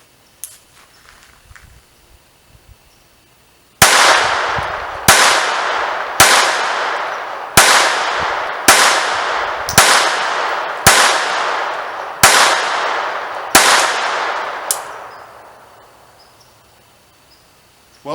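Nine sharp, loud shots from a Beretta 950 Jetfire .25 ACP pistol, fired in a steady, evenly spaced string, each crack ringing out with a short decaying echo, followed by a brief metallic clink.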